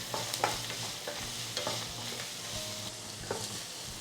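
Onions sauté in a pan with a steady sizzle, punctuated by a few spatula scrapes and stirring knocks, close up and with no talking.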